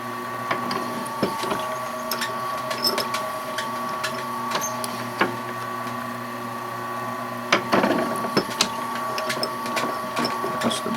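A drill bores into a duck call insert, lubricated with automatic transmission fluid, producing a steady mechanical whir with repeated clicks and scraping bursts, close and fairly quiet.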